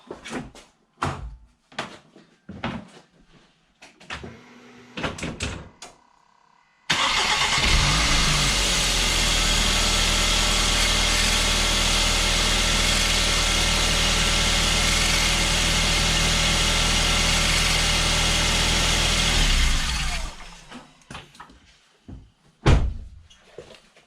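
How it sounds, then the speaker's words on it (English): A 2011 Volvo V50 2.0 petrol car with a newly replaced A/C clutch: door and cabin clunks, then the engine cranks and settles into a steady loud idle for about thirteen seconds before it is switched off, followed by more clunks. "I will start the car, turn the AC on and off."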